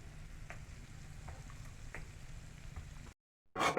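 Papaya and potatoes with turmeric fry in a pan and are stirred, giving a soft steady sizzle with faint scraping taps, then a brief silence before a louder burst of sizzling.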